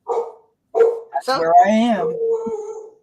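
Pet dog at home gives a couple of short barks followed by a longer whining whimper, close and loud, with a person speaking briefly in between.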